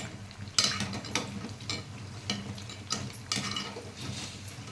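Vadas frying in hot oil in a home kitchen, a steady bubbling sizzle broken by several sharp clinks and scrapes of a utensil against the pan, close and moderately loud, with no talk.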